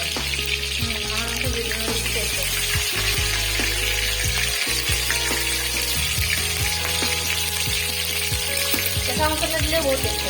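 Duck meat coated in fresh masala cooks in oil in a kadai, giving a steady, close sizzle and frying hiss with occasional stirring scrapes throughout.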